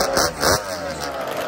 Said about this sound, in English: Kawasaki H2 750 on a lot of nitrous oxide.